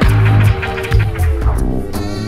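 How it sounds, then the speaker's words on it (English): Fretless bass on a record playing on air. Deep, sliding bass tones throb loudly and continuously through a short stretch of the track. "Fretless bass. Fretless bass up the yin-yang."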